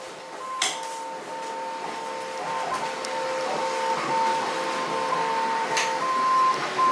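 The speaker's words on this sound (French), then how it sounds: "C'est notre machine 3D qui fonctionne genre 24 heures sur 24, je pense." A 3D printer running nonstop in a workshop gives a steady mechanical hum with tonal whines that shift in pitch as its motors move, plus a few sharp clicks, close by and without talk.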